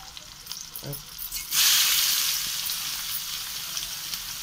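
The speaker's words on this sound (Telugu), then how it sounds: "ఓకే, ఆనియన్స్ అవి వేసుకున్నాను" Chopped onions dropped into hot oil with fenugreek, mustard seeds and cumin, bursting into a loud sudden sizzle after a few light clinks, then settling into a steady close hiss.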